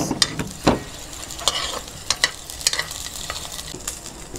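Ginger, garlic and onion sauté in a pan with a soft, steady sizzle, broken by irregular clicks and scrapes of a spoon stirring, close by with no voices.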